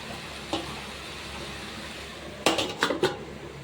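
A metal lid set onto a cooking pot of chayote and peanut aviyal, a soft clink followed by a cluster of three or four quick clanks against the rim over a quiet kitchen hiss.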